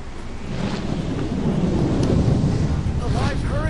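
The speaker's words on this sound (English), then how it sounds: "A live hurricane!" A thunderstorm from a live hurricane in a video game: a continuous heavy roar of rain and rumbling thunder with wind, loud and dense throughout, with faint voice-like tones near the end.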